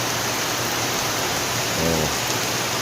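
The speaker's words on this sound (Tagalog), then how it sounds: "Lakas pa rin ulan." Heavy rain pours in a dense, unbroken hiss, loud and close, with a faint low rumble briefly surfacing near the end.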